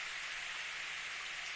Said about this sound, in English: raindrops start landing on my forehead. An evening shower